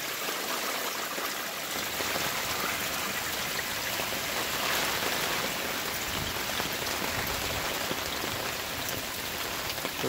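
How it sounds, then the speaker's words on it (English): Heavy water gushing steadily from a sump drainage pump discharge in a backyard drainage system, a continuous broadband rushing splash with no voices. "He's pumping right now. Some serious water coming out of there."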